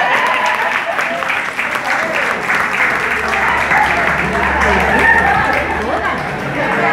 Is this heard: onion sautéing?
no